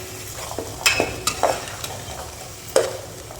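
Brinjal frying in oil while being stirred with a utensil, a soft steady sizzle under a handful of sharp scraping and clinking stirs spaced irregularly, close and moderately loud.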